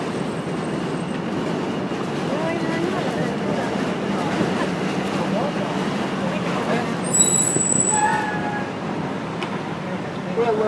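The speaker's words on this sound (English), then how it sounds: "And there's the subway at the lower level." A New York City subway train rumbles past steadily on a lower level near the East River, broad low roar with rail clatter and a brief metallic squeal near the end, fairly close and continuous.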